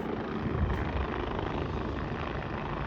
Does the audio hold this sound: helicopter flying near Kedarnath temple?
yes